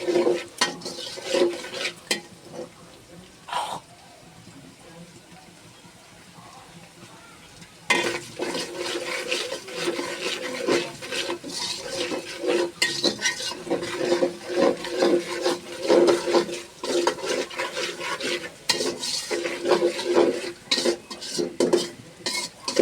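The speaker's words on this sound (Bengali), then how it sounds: "এই পেঁয়াজটাকে কিন্তু ভালোভাবে নাড়বেন নাহলে কিন্তু ব্রাউন শেড ঠিকই আসবে" Onions stirred as they fry in oil in a pot give a sizzle broken by repeated scraping and clinking of a spoon against the pan, quieter for a few seconds, then busy and close again.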